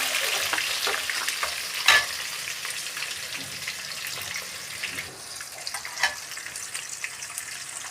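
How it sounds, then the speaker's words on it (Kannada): Onions frying in a pan with curry leaves and a bay leaf: a steady, loud sizzle with frequent stirring scrapes and a few sharper clanks against the pan, lasting throughout. "ಈಗ ಈರುಳ್ಳಿ ಹಾಕಬೇಕು."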